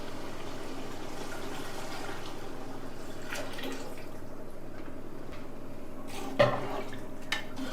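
Water is poured into chicken biryani masala in a cooking pot, a soft continuous splashing and trickle throughout, with a small clank near the end.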